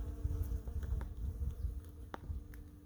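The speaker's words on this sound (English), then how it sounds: "swarm of bees" A swarm of bees hums around a tree, a constant buzzing drone with individual insects zipping past the microphone now and then, fairly quiet and without voices.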